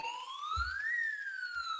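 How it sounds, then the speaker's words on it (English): A siren sound effect sweeps up in pitch and then slowly falls, a short clean electronic wail heard alone with a faint low thump beneath. "Sound the siren, people."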